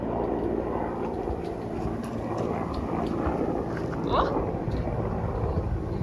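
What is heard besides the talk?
helicopter flying overhead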